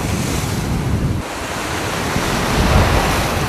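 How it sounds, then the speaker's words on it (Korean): Heavy surf pounds coastal fishing rocks in a continuous loud roar, mixed with strong wind buffeting the microphone, with no voices. "파도가 갯바위를 위협하고 있다"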